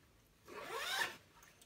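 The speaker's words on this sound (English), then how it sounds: "To the external pocket, we've added a zip flap for weatherproofing" A zipper on the weatherproofing zip flap of a carry-on bag's external pocket is pulled once in a single smooth, rasping stroke lasting about half a second, close and fairly quiet, with no talking.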